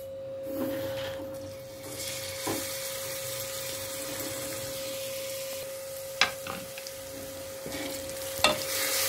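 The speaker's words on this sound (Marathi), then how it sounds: "थोडी फ्राय होऊ द्यायची, चटणी थोडी फ्राय होऊ द्यायची" Steady sizzling of chutney frying in hot oil as a tempering, with occasional sharp pops and crackles over a constant hiss and a faint tone.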